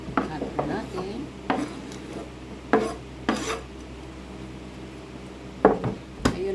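A spoon stirring mixed vegetables with fresh parsley in a small container, quiet scraping and clinking strokes at an uneven rhythm, close up and soft, with pauses between clusters of taps.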